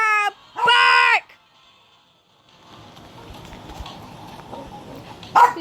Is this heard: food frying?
no